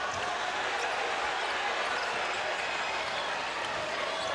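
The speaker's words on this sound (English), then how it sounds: "Doing a lot of dribbling." Basketball dribbled on the court during a UConn men's college game against North Florida, a steady bouncing rhythm buried in continuous arena crowd roar with no distinct voices.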